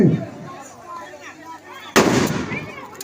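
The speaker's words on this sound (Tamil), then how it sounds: "ஒரு வெடி போடுங்க ஒரு வெடியா போடு" A single firecracker goes off with a sharp, loud bang about two seconds in, following faint background voices and crowd noise at an outdoor gathering.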